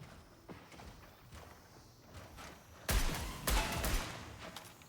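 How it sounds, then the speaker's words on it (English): Gunfire and footsteps from other players in the shooter video game Marathon, heard at a distance: faint scattered steps and shots, then a louder burst of several gunshots in the second half. "Gunshots, footsteps."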